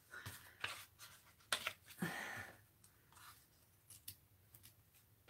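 Scissors snip through paper at close range during an art session, giving short sharp cuts and rustling in uneven bursts over a quiet background.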